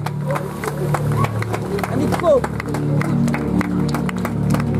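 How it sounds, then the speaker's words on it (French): Audience clapping and cheering after a dance show, a dense sustained wash of applause from a crowd with sharp individual claps poking through and a voice speaking underneath. "Vos applaudissements, mesdames et messieurs,"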